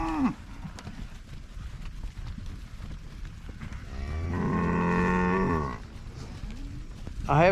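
Dairy cows low with a single long, loud moo in the middle, set against steady outdoor farm ambience, with fainter bovine calls at the start and end.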